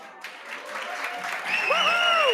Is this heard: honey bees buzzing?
no